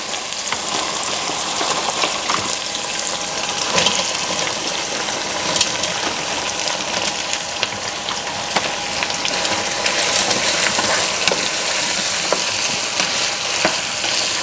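Plantain slices fry steadily in hot oil in a pan for dodo gizzard, giving a dense, continuous sizzle with crackling pops throughout.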